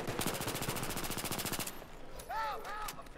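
AS-Val rifle firing in the video game Battlefield 3: a rapid, steady burst of roughly twenty close shots lasting under two seconds, then quiet with a brief tonal sound afterward.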